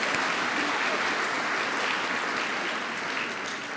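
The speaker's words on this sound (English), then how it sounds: "Could you give them a round of applause" An assembly audience in a school gives the school orchestra a sustained round of clapping, broad and even throughout, with faint voices mixed in.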